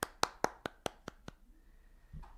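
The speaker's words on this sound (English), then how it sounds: "Guys clap like this, girls clap like this." Seven sharp, evenly spaced hand claps ring out in quick succession, close and distinct, followed by a brief soft murmur.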